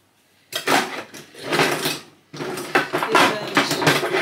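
A kitchen drawer slides open and shut with rattling, clattering contents like cutlery and utensils, loud and close, in two or three bursts.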